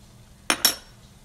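A teaspoon clinks twice against a dish while butter is being added during cooking, two quick, close, bright metallic taps with silence around them.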